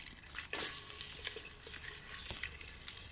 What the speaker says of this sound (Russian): Ребят, у нас там уже все шкварчит